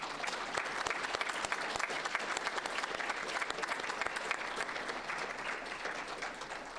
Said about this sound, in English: can we just have one final round of applause?